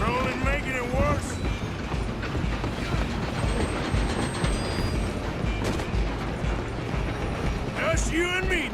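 A train in Red Dead Redemption 2 rumbles along with continuous clattering wheels and mechanical rattle, loud and close, while voices shout briefly over it at the start and end.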